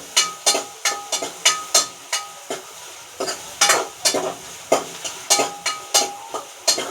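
Finely chopped onion and green chillies cook in a pan, a soft frying hiss underneath repeated rhythmic scrapes and knocks of a spatula stirring, close and fairly loud with no talking.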